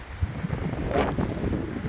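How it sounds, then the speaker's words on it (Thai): Strong wind buffets a bridge over a shipping canal in the Netherlands, a continuous roaring gust beating on the microphone with a brief louder surge, alone without talk. "ลมแรงค่ะลมแรงมากๆเลยค่ะ"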